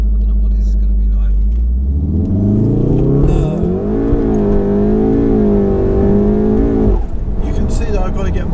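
A 600 bhp VW Golf R launches from a standing start. Its engine roars loud and close, the note climbing steadily as it pulls hard, then a gear change cuts in near the end before it surges on.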